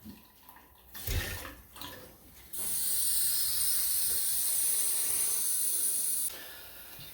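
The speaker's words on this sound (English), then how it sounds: "I'm going to open this and we're going to send water through out" Water rushing through boiler pipes during a purge through the drain station: a few brief gurgling spurts, then a loud steady hiss of flow for several seconds before it drops away.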